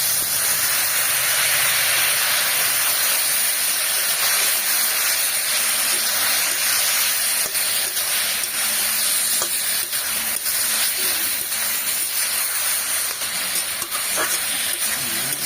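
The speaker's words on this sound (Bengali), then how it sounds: "বা সামান্য জল দিয়ে একটু কষিয়ে নেব।" Sea fish sautés in a pan with a little water and salt, a steady unbroken hiss and sizzle that holds close and loud throughout, with faint scraping of stirring mixed in.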